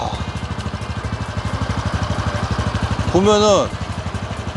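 Single-cylinder Honda Super Cub delivery motorcycle engine idling with a steady, fast low-pitched thumping pulse, heard close. A person speaks briefly over it, and a short rising-falling whine sounds partway through.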